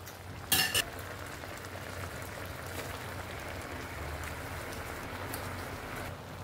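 Coconut milk with malunggay leaves boils in a pot, giving a steady soft bubbling hiss throughout with a brief louder clatter near the start.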